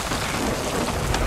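Thunderstorm with heavy rain at sea in a sailing video game, a dense steady roar of rain with low rumbling underneath, loud and continuous throughout.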